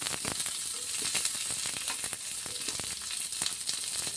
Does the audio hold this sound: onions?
yes